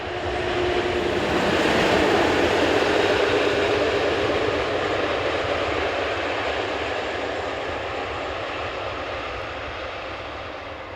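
An SNCF BB 67200 class diesel locomotive, BB 67226, goes past with a loud, sustained engine roar and rolling rumble that swells early and then slowly fades.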